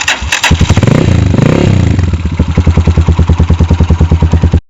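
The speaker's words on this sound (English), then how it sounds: "I'm sure the spark plug now will function and the bike will start." A motorcycle engine catches after a wiring repair. A sputtering crank gives way to a loud close idle with an evenly pulsing, thumping rhythm, then it cuts off abruptly at the end.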